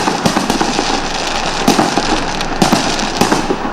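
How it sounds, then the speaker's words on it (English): New Year fireworks go off outside a church, with loud, close cracks and bangs bursting irregularly over a continuous crackling roar, with no talking. "Outside the church, the skies were colored with sparkles of fireworks, a tradition done to mark the beginning of a new year."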